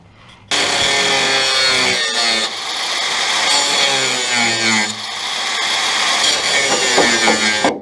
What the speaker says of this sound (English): All right, time to use the grinder.